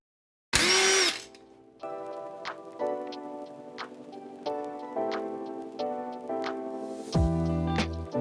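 A power driver whirs in short bursts while backing T30 Torx screws out of a Tesla display, with small ticks between runs and a sharp burst near the start.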